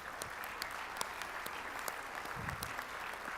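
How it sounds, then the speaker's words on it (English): Audience applause at the 61st NSMA Awards ceremony, a steady wash of clapping hands that holds evenly through the whole stretch at moderate loudness, with a few sharper individual claps standing out. "We could give them a round of applause"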